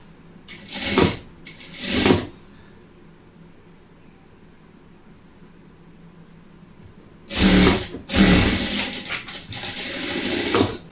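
A sewing machine stitching trouser fabric runs in loud close bursts, two short runs, a quiet pause, then a longer steady run, with no voices.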